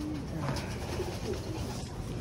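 Pet pigeons cooing softly in a low, repeated murmur against steady background noise, fairly faint and close, with no talk.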